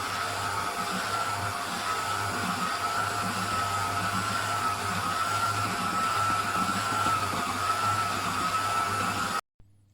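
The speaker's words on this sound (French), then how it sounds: "vous remettez le batteur gentiment. Vitesse 2, c'est bien." An electric hand mixer beating almond paste at speed 2: a steady, even motor whir with a constant pitch that runs for about nine seconds, then cuts off abruptly into near silence.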